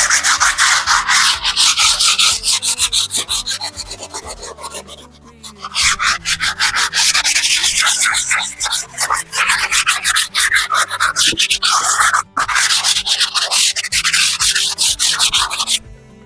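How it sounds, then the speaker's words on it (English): Steady, loud abrasive sanding strokes rub back and forth against a painted wall, continuing with a brief pause near the middle and another short break later. "It's just a minor sanding, just to make sure we remove this particle from the wall."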